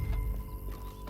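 A horse trots in Red Dead Redemption 2, a short run of hollow clip-clop hoofbeats at an even quick rhythm over low ambient game noise, faint and brief with no talking.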